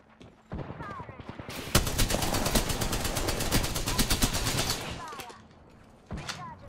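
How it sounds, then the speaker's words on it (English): Rapid gunfire from a Wingman pistol in the video game Apex Legends, a loud dense run of shots up close that lasts several seconds before easing off, with game sounds around it. "I hear people shooting a wingman at me"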